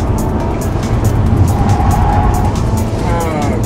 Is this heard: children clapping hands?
no